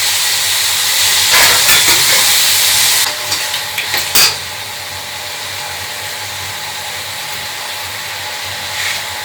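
Chicken goes into a hot pot for chicken pulao, letting out a loud hissing sizzle and burst of steam that is strongest at first, then settles into a steadier, quieter hiss.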